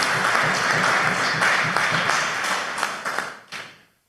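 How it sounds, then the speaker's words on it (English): Audience applause at a Caribbean internet governance forum, a room of people clapping steadily before the claps thin out into a few scattered final claps and stop. "So please, a round of applause, Mr. Andre Lever."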